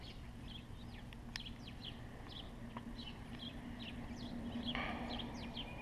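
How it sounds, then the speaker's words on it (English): Small birds chirp again and again outdoors, quick high tweets scattered across the clip over a steady broadband background hum, heard during a sway bar install on a Scion FR-S / Subaru BRZ. "God, those birds are annoying."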